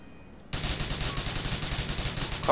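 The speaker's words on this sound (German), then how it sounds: "Man kann hier ganz nett auf diesen Tank schießen." Rapid automatic gunfire aimed at a tank in the video game GTA IV starts abruptly after a brief quiet moment, then continues as a steady, even rattle of loud, closely spaced shots.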